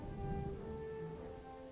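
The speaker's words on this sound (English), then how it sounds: "Continuous rainfall has reduced the battlefield to a sea of mud." Rain falling on a muddy World War I battlefield in the strategy game The Great War: Western Front, a steady wash of rainfall with low rumbling underneath and faint tonal game sounds layered over it.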